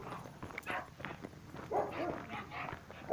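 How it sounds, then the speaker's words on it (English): Two dogs bark in short, scattered bursts at moderate distance, with no talk and a faint steady background under the barks. "Both dogs have been barking"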